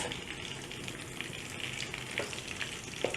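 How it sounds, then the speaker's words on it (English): Cinnamon sticks, cloves and star anise frying in oil in a pan, giving a steady close sizzle with a few faint pops and light crackles. "Fry this up until it's fragrant."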